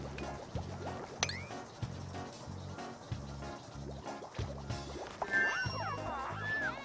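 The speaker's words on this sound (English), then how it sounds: "Oh, you can mop water up." Water being mopped up in the Oxygen Not Included video game: soft, repeated wet dripping and squishing blips over a steady musical backdrop, with a few brighter chiming tones near the end.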